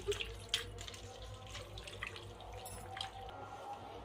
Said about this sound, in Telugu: ఇలా ఈ విధంగా శుభ్రంగా కడుక్కోవాలి